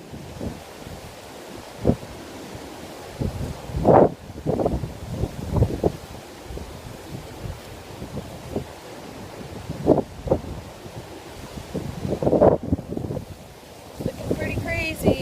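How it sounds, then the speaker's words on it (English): Ocean waves and gusting wind on a coast hours before Hurricane Gonzalo, a continuous rough roar with surges of surf, while a person talks close to the microphone throughout. "Check out these waves."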